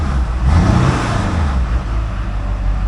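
A 2001 Chevy Silverado 3500 dually with the 6.6L LB7 Duramax diesel revs close by, a loud, steady low rumble that swells briefly early on and then settles.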